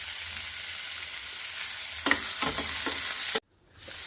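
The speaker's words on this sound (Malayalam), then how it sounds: "ഇഞ്ചി, പച്ചമുളക്, വെളുത്തുള്ളി, കറിവേപ്പില എന്നിവ ചേർത്ത് നന്നായി വഴറ്റിയെടുക്കാം." Ginger, green chili, garlic and curry leaves sautéing in hot oil for a lime curry give off a steady close sizzle, with a few sharper crackles and stirring scrapes before a sudden brief drop to near silence.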